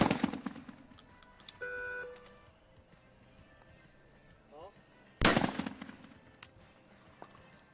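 Shotgun blasts ring out at a para trap shooting final at a world championship, two loud sharp shots several seconds apart with echoing tails, separated by faint beeps and low background noise.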